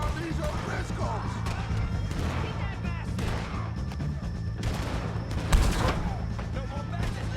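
Gunfire cracks and pops during a Red Dead Redemption 2 shootout against the O'Driscolls, scattered shots and impacts rattling over a dense game soundscape while characters shout over the fighting.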